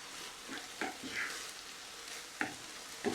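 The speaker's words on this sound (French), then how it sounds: "Allez, je mélange comme il faut." A spiced mixture with turmeric and paprika being stirred in a pan, giving a steady sizzling hiss with a few soft scraping strokes, close and continuous with no voices.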